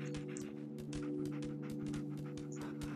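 Dogmeat, the dog companion in the video game Fallout 4, pants in quick, soft, breathy bursts over a steady droning game soundtrack.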